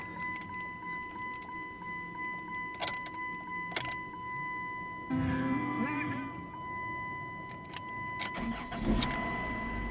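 An old back-lot car engine cranks and catches around the midpoint, then settles into a steady idle, with a constant electronic whine and a few clicks and jingles before.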